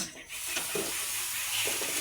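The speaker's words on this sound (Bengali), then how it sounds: "এইবার জল দেবো, অল্প করিয়া জল দেবো।" A little water poured into a pot of pumpkin and potato curry in a home kitchen, a short hissing, sizzling pour, close and steady for two seconds.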